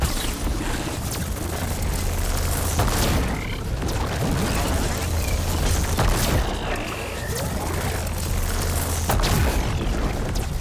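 Railgun shots from the video game Horizon Forbidden West land as heavy booms within a loud, continuous wash of in-game combat noise and rumble, with no voices.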